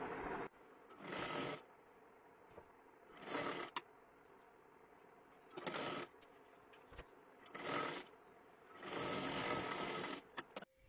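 Several short bursts of a sewing machine stitching a strip along the top of a sleeve on a girl's one-piece dress, separated by pauses with fabric handling in between.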